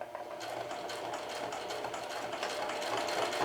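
A sewing machine back tacking in reverse while stitching yokes, running as a steady, continuous rapid mechanical whir of needle strokes at close range for the whole stretch, with no talking.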